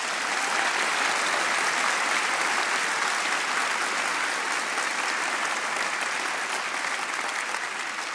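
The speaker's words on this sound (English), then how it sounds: "Let us all give them all one more round of applause." A large commencement audience at a medical school ceremony claps in a dense, steady roar of applause that stays loud and even throughout, with no voices breaking through.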